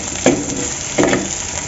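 Chopped onions frying in hot oil for a chicken curry, a steady sizzle with two distinct scraping stirs of a spoon through the pan, close and alone.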